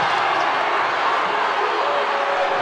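A loud, steady crowd roar fills an indoor arena during a women's college basketball game between Michigan and NC State, a constant wash of cheering and voices with no breaks.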